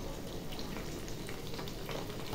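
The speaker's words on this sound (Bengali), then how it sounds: "এদিকে মোচার বড়া ভাজছি" Banana blossom fritters frying in hot oil in a home kitchen give off a steady, low hiss of sizzling that runs evenly throughout, with no voices.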